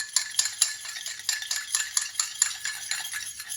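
A spoon clinks and scrapes rhythmically against a small bowl while mixing an onion cream mixture, the quick repeated taps steady and fairly faint, with no speech.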